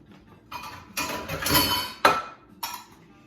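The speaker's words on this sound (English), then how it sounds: "Just shake them a little bit." Apples jostle and rattle in a metal colander during a brief shake, a rough rumbling rush building and ending in a sharp clank, followed by one more short shake, close and moderately loud.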